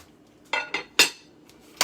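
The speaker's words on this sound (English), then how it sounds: "And then we are going to stick a lid on this." Metal cooking pot and lid clank together in a few sharp clinks, spaced irregularly over under two seconds, close and fairly loud.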